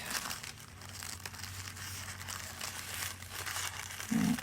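Paper is crinkled up by hand, giving soft continuous crackling and rustling under a low steady hum, close and fairly quiet.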